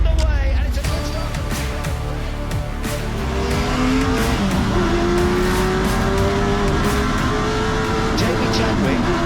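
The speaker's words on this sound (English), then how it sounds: "The race is underway, and it's a good start." A pack of V8 Rover SD1 touring cars roars away at the start of a Goodwood race, loud engines revving and climbing in pitch as they accelerate, with tyre squeal and a commentator speaking over the din.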